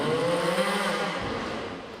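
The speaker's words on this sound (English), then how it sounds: "Revs it up." A trial motorcycle engine at an X-Trial indoor event revs up, a loud sustained roar that rises briefly and then eases off.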